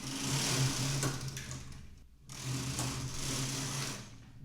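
A Brother bulky knitting machine knits two rows. The carriage gives a steady mechanical whirring pass, stops briefly, then makes a second similar pass.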